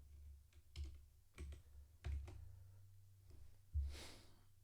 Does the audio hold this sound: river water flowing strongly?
no